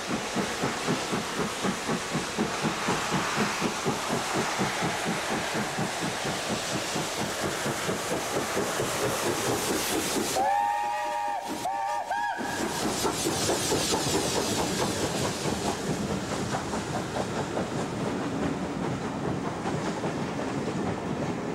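British Railways steam locomotive 70000 Britannia, built in 1951, runs on a test trip with a loud continuous rhythmic chuffing and rail rumble, briefly dipping midway as a high whistle-like tone sounds, then rolling on strongly.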